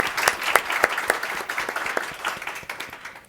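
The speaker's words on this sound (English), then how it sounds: "if I could have a round of applause for our panelists" An audience applauds panelists at an education panel, a dense round of clapping that starts strong and tapers off over a few seconds, fairly close.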